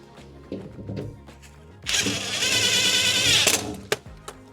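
A 5/16 socket turns a transit bolt on the back of a Speed Queen front-load washer, giving a steady, close mechanical whirring grind lasting about a second and a half, framed by a few light clicks and knocks.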